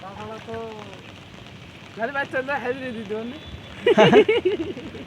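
Rain patters steadily over a village house-building site while people talk over it, with voices rising louder near the end.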